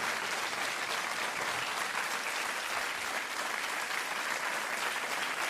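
A television quiz-show studio audience applauds continuously, a thick, even roar of many clapping hands sustained throughout without any speech.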